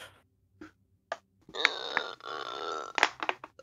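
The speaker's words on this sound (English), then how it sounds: "Was that supposed to be a burp?" A forced, drawn-out burp from a person during an Overwatch 2 gaming session, a rough voiced eructation lasting about two seconds after a few faint short sounds, close and moderately loud with small clicks and grunts at the end.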